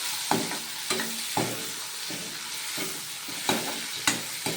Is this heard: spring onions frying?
yes